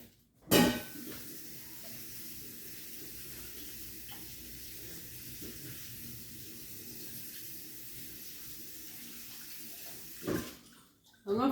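Running water pours steadily over a regular head of cabbage being washed, a continuous mid-level splash and hiss with a brief louder knock near the start and handling noises toward the end.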